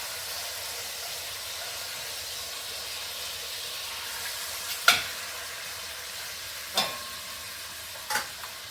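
Steady frying sizzle hisses from pork chops browning in a hot pan, broken by a few sharp pops and crackles spaced a couple of seconds apart.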